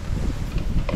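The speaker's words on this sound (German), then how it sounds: "Super windig." Strong gusting wind blows outdoors, a steady low roaring rumble of wind buffeting the microphone with faint rustling, loud and close throughout.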